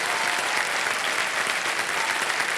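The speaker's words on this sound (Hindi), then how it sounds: "बहुत जोरदार तालियों के साथ हम चाहेंगे कि इनका स्वागत किया जाए।" A television game show studio audience on Kaun Banega Crorepati breaks into loud, dense applause to welcome celebrity guests. The clapping holds at a constant level throughout, close and full, with no speech over it.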